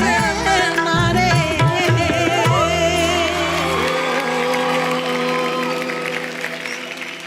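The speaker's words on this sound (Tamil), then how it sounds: "ஸோ அமேசிங்காக பாடின நம்மளோட லெஜண்ட்ஸ்க்காக ஒரு பெரிய கைத்தட்டல் கொடுத்துடலாம்" An audience applauds singers at a televised junior singing competition, the clapping swelling in as sung music with instruments winds down, then carrying on steadily and fading slightly at the end.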